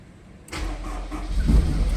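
A 2001 AP1 Berlina Black Honda S2000 cranks and fires up close by about halfway through, after a quiet start, then settles into a steady, throaty idle rumble.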